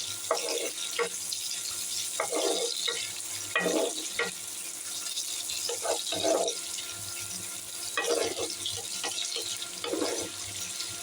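Onions frying in a pan, a steady broadband sizzle with soft clattering bursts from stirring every second or two, fairly close and with no voices.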